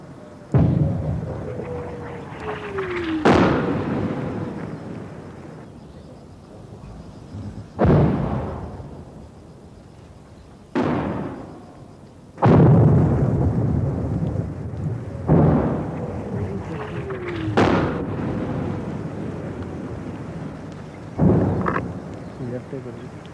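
Artillery fire and shell explosions in a war setting, a series of about eight heavy booms spaced a few seconds apart, each rumbling and decaying, with shouted commands and talk between them.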